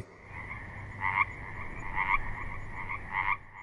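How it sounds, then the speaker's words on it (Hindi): Several frogs call in a rainy-season chorus with repeated throaty croaks in rhythmic clusters, loud and near. A low steady hum sits underneath and no one speaks. "बारिश झमाझम बरसना शुरू हो गई थी मेंढक टर्रा रहे"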